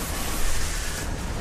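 Tank cannon explosions in the video game Killzone 3 form a dense, loud, continuous roar of blasts and rumbling booms, with no clear gaps between detonations.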